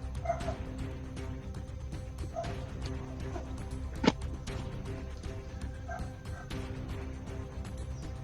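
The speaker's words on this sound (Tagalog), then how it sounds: "Maraming aso dito mga idol." A few faint dog barks at a distance over a steady low background hum, spaced out irregularly.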